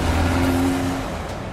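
A 2022 VW Golf R engine driving on the open road, a steady close rumble with a brief tonal drone that fades slightly toward the end.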